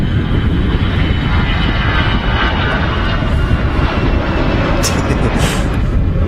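An easyJet Airbus A320 jet takes off from Manchester Airport bound for Amsterdam, a loud, steady engine roar with broadband rumble filling the whole stretch, and no clear speech over it.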